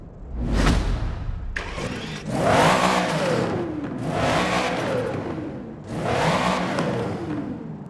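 A 2009 Mercedes SL65 AMG in the Forza racing game, its engine revving hard in repeated surges, rising and falling in about three loud bursts with brief dips between.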